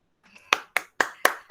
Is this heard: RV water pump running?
no